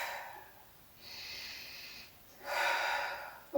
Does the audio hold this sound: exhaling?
yes